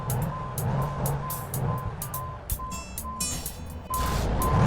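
Truck reversing beeps from American Truck Simulator during an alley dock, a steady repeating warning tone over a low engine rumble, with game traffic noise swelling near the end.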